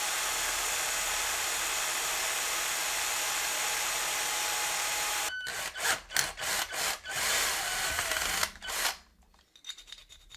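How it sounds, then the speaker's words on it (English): Hand filing on a styrene model car body to widen a cut opening: steady continuous rasping for about five seconds, then a run of separate short strokes with pauses, close and fairly loud, with no talking. "I'm at the point where I can get a decent sized file in there, thankfully."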